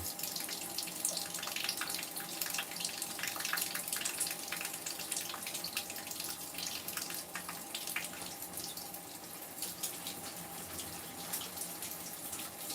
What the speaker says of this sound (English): And the water is barely running